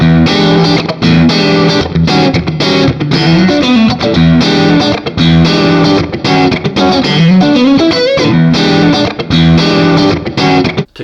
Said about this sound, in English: mid-gain, edge of breakup type tones